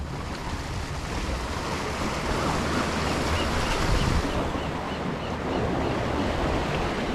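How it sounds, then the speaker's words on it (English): Ocean surf breaks along the shore where someone is fishing, a steady rushing wash with wind buffeting the microphone and a brief swell near the middle. "Got a nice little lull in the waves."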